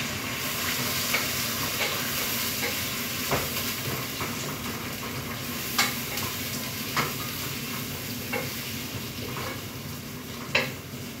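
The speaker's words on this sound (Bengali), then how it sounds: "তো ডাইলা দিলাম পেঁয়াজটা আমি।" Sliced onions frying in a curry for fish masala, giving a steady, close sizzle with occasional sharp pops and stirring clicks, with no talking.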